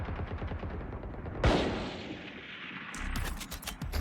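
Rapid gunfire in the tactical shooter game Valorant, with a dense stream of shots, one sharp louder blast midway, then another quick burst of fire, loud and close with no talking.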